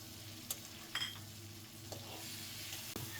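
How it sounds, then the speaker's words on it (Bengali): Tomatoes tossed into vegetables stir-frying in a pan for a Chinese-style sizzling beef dish: a steady close sizzle broken by a few sharp clatters of stirring, with no voices. "এই যে এখন টমেটো দেওয়া হচ্ছে"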